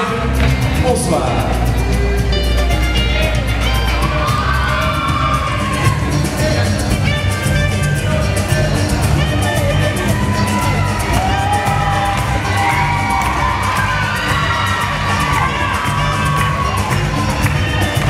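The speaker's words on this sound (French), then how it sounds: "Merci pour les applaudissements pour Émilie Francillon" A large crowd at a Miss Baie-Mahault beauty pageant cheering and shouting loudly and continuously, with whoops rising over a dense wash of noise throughout.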